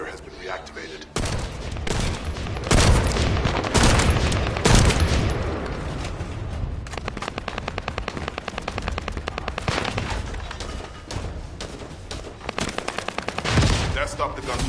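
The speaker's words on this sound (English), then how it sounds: "That stopped the gunfire." Rapid automatic gunfire in the sci-fi shooter game The First Descendant, with loud bursts and sustained stuttering volleys across the clip amid explosion-like thumps.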